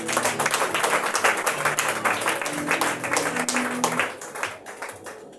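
A church congregation applauds for the king with dense, sustained clapping for about four seconds, with voices underneath, then the applause tapers off.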